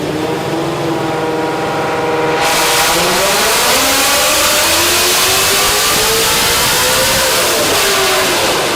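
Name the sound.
Procharged Ford Mustang S650 engine on dyno pull with ethanol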